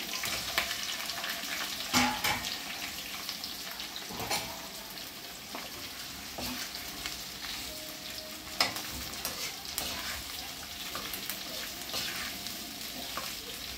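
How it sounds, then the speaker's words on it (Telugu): Onions, green chillies and curry leaves fry in hot oil in a kadai for ginger chicken curry, a continuous close sizzle broken by occasional stirring scrapes and clinks. "ముందు కళాయిలో నూనె వేసి పచ్చిమిరపకాయలు కరివేపాకు ఇవి కొంచెం వేగాక ఉల్లిపాయలు"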